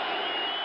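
A stadium crowd at the 1977 World Series Game 1, Dodgers at Yankees, roars and applauds as a broad, dense wash of cheering, loud and unbroken.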